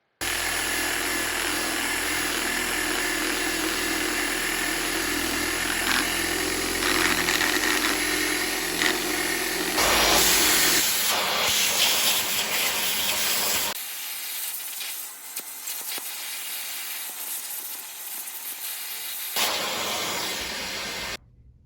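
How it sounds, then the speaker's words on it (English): Power sander working surface rust off a car body in a garage, a loud continuous whirring hiss that shifts in tone as it presses, pauses briefly with a drop in level, then resumes. "We're going to sand this all down nice and smooth"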